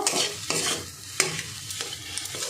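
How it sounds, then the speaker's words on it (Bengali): Grated potato is stirred into a sizzling egg and spice masala in a pan, with repeated scraping strokes of a spoon over a soft frying hiss, close and moderately loud, no voices. "এবার যে গ্রেট করা আলু ছিল সেই আলুটা দিয়ে দেব। আলুটা এর সঙ্গে ভালো করে মিশিয়ে নেব।"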